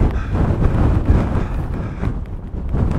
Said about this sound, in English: And that wind.